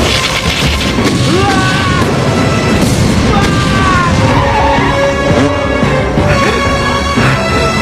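A fuel explosion in a Kamen Rider Kuuga fight scene, a loud sustained booming blast with crashing debris layered over dramatic music, filling the whole stretch at high level.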